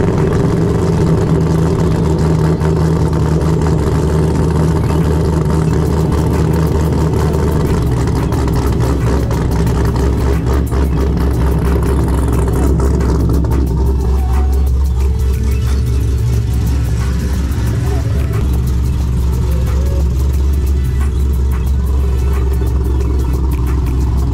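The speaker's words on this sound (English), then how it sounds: "let's get a cold start" Corvette V8 engine cold-starting and settling into a loud, rumbling idle, with the deep throb steady and close, the higher roar easing partway through as the idle drops.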